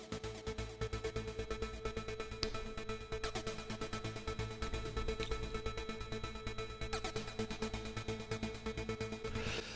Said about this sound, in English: I've got a track here, track one, with a rhythmic loop on it using three VSTs.